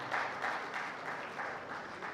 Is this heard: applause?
yes